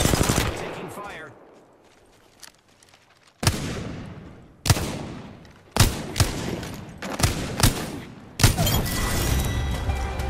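Bursts of automatic gunfire in the Apex Legends video game crack out in sharp, loud volleys with brief quieter gaps, some rapid sustained rattles and isolated heavy shots close by.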